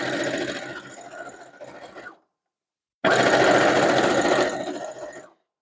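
A sewing machine stitches a row of a pinwheel quilt in two close, loud bursts of rapid mechanical whirring, separated by a brief pause of silence.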